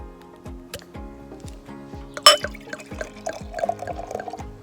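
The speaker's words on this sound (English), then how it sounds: "I've poured it quite aggressively, and that is to get plenty of head on the beer" Beer is poured hard into a glass to raise a big head, giving a close sequence of glugging splashes and liquid gurgles with one sharp glassy clink midway, fairly quiet and with no talking.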